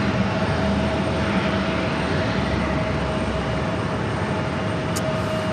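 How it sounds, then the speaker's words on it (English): A WestJet Boeing 737 taxis to its gate at JFK, its engines giving a steady, fairly loud broadband roar with a thin constant tone running through it, and no voices. "Oh, it's this WestJet. WestJet is going into gate 7."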